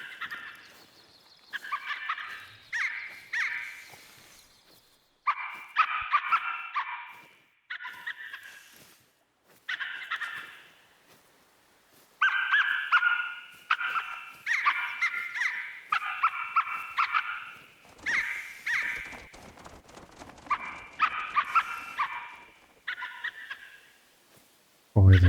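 Duck calls in the hunting game theHunter: Call of the Wild, a long series of repeated nasal quacking bursts in irregular clusters, fairly loud and close, with brief pauses and a few sharp knocks between them.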